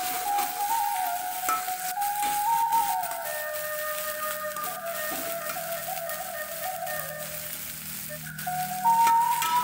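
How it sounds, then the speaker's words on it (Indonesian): Ground spice paste sautés in hot oil for a fern stir-fry, giving a steady, close, moderately loud sizzle for the whole stretch, with a sustained high tonal line running above it. "kita masukkan bumbu tadi yang kita haluskan, kita tumis, kita tumisnya sampai wangi ya"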